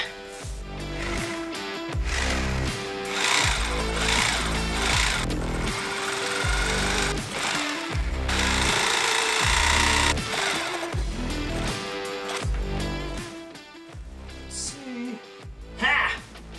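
Improvised cutting of an outlet hole in a wood veneer panel, a loud, steady, grinding power-tool run that pulses in repeated bursts for the whole stretch, with brief pauses near the end.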